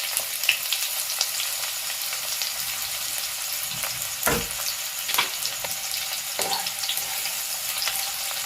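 Chopped onions frying in a pan for chicken curry, with a dense, even sizzle throughout and a few brief stirring scrapes and clatters, heard up close without speech.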